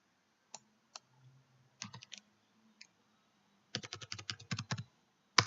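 Keys clack on a computer keyboard in a quiet room, a few scattered presses and then a quick run of rapid typing, crisp and close, ending with a louder final stroke.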